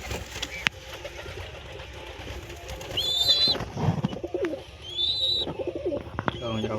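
Pigeons coo softly and repeatedly at close range, with low throaty calls rising and falling among rustling and handling noises, while someone talks at times.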